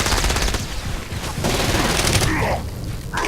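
Rapid submachine gun fire in Saints Row: Gat Out of Hell, a loud, dense stream of overlapping shots that runs almost unbroken for several seconds, with brief dips between bursts.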